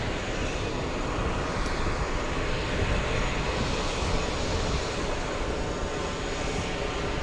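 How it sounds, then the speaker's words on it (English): Delta Boeing 767-300 jet inbound from Dublin on final approach, a steady, loud broadband engine roar that holds evenly throughout without any talk. "We have Delta 45 flying in from Dublin. A 767-300, a 6-hour, 46-minute flight."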